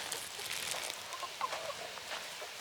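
Chickens out in a field, a few soft scattered clucks and chirps, faint and somewhat distant over light outdoor background noise.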